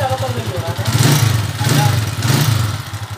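An overhauled TMX155 motorcycle engine idles close by with a steady low chug, swelling in two or three gentle revs, while someone speaks over it.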